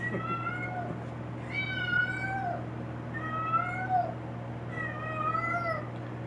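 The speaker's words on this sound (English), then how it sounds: "Excuse me for all the cat noises." A cat meowing indoors in an office, giving three drawn-out rising and falling meows spaced a couple of seconds apart over a steady low electrical hum, fairly close and alone.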